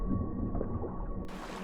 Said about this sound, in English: killer whales.